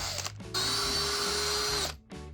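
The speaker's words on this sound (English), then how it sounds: "In the end, I drilled them out." A power drill bores out jammed screws on a faulty alternator: a steady, loud whine held for over a second, framed by short bursts as the bit starts and stops.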